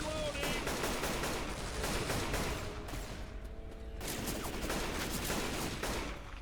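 Rapid bursts of heavy automatic gunfire from a big gun in the zombie shooter Left 4 Dead 2, loud and sustained with a short pause midway, then firing resumes.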